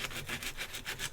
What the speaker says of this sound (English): texturing, I guess we're calling it instead of sanding.